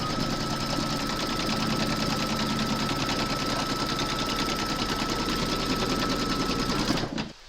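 An embroidery machine stitches a round on hooped slipper fabric under taped batting, giving a fast, steady, loud mechanical chatter that runs evenly for several seconds and then stops abruptly.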